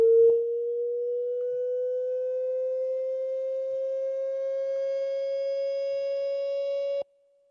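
A single steady synthetic tone sonifying a temperature graph in Logger Pro glides smoothly upward in pitch for about seven seconds, then cuts off abruptly.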